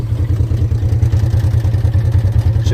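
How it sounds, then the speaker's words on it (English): A car engine runs after a new gas pedal is installed, giving a loud, rhythmic, pulsing low throb with a steady mechanical beat and no voices. "Very good revs."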